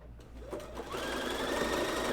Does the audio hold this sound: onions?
no